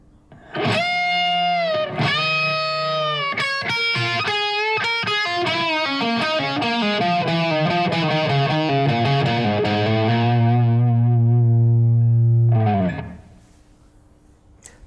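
Distorted electric guitar plays a Guns N' Roses "Anything Goes" solo line: fast picked notes, bends and sustained wailing tones, loud and upfront, ending with a long held note that cuts off.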